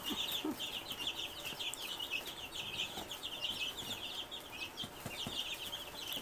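Egg-laying chicks about two and a half weeks old peep in a brooder with heaters, a dense, continuous chorus of high chirps with no talk over it.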